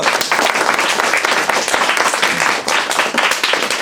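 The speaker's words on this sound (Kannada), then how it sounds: "ಅವ್ರಿಗೆ ಚಪ್ಪಾಳೆ ಹಾಕ್ರಿ ಫಸ್ಟು" An audience claps loudly and steadily at a charity event handing out bedsheets, notebooks and pens to poor children, dense continuous applause filling the space with no break.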